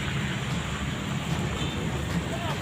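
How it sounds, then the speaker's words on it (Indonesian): Heavy rain and strong gusting wind roar together in a steady, dense wash that stays loud and unbroken throughout. "Hujan lebat disertai angin kencang."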